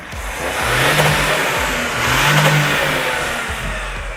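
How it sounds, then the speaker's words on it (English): Toyota's hydrogen-powered combustion engine revs loudly and close, rising and falling twice in a deep, throaty roar with an idle-like rumble underneath. "its hydrogen-powered cousin makes a noise that is as good and, in our opinion, even better than the petrol-powered version"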